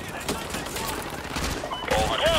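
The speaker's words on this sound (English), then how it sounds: "Squad, put suppressing fire on that house!" Suppressing gunfire in Call of Duty Modern Warfare 2, Exodus mission on residential streets: rapid overlapping automatic fire rattles under shouted voices, with a rising whine near the end.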